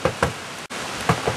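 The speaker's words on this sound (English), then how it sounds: "See if we can hear something knock." Knocks from inside a wooden trunk, heard as a couple of close, sharp raps, a short pause, then two more, with no talking.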